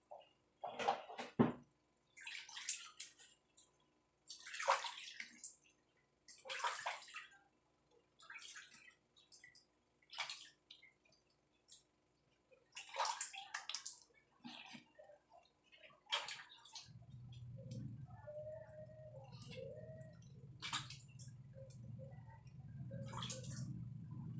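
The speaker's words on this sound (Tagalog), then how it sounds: "Meron ako dito nakahanda na lukewarm water. So, nagbabanlawan na ako." Face rinsed with lukewarm water from a basin by hand: repeated close splashes and dripping in bursts, then a steady running-water wash toward the end.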